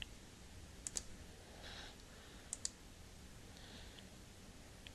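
Mouse clicks while working in CATIA sketcher software: two quick double clicks, the first near the start and the second about halfway through, each crisp and close over a low steady room hiss.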